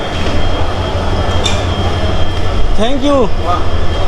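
A train pulls into Badarpur Junction after a long hill journey, a steady loud rumble of wheels and carriages running throughout with a brief high wheel squeal near the end.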